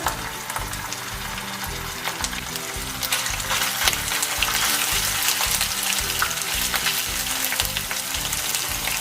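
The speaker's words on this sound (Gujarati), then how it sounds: "તેલ અહીં આપણું થોડું ગરમ થાય એટલે તેમાં આદુ અને મરચાંની પેસ્ટ એડ કરીશું" Ginger and green chili paste fries in hot oil for a street-style veg hot dog, giving a loud, steady, close sizzle that runs unbroken for the whole stretch.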